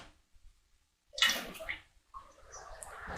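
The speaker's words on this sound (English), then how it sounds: "Just add a bit of cold water, just swirl it around and you'll get your last bit out there." Cold water swirled around inside an emptied tomato tin while making spaghetti bolognese, heard as a few brief, close sloshing bursts separated by quiet.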